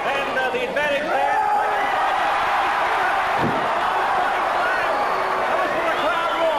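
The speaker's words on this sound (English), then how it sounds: "That was for the crowd roar." A pro wrestling crowd at Festival Hall in Melbourne roars loudly and continuously, with a brief thud partway through and a dense, steady wash of voices throughout.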